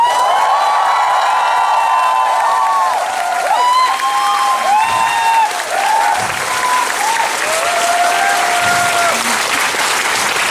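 A concert hall crowd gives loud, sustained applause for the band and strings at the close of a show, dense clapping mixed with cheers, whoops and shouts over a faint lingering musical tone.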